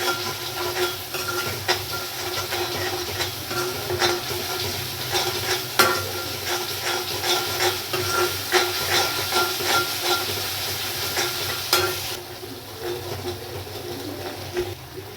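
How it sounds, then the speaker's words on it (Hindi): A spoon stirs spice masala frying in oil in a pan for a spinach and egg curry: a steady sizzle with repeated scraping strokes and light metallic taps, close and continuous. "अब इसको चला लेंगे, चम्मच चला लेंगे, मसाला थोड़ा भून लेते हैं।"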